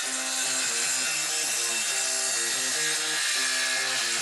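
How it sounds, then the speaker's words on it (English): Wooden boards are being sawn in steady back-and-forth strokes, a dense rasping texture heard alone, with a repeating tonal melody running beneath it. "Sawing boards!"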